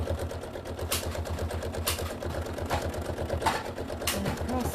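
A sewing machine runs steadily through free-motion quilting, its needle hammering in a fast even rhythm up close, with a few brief clicks and rustles of fabric over the top.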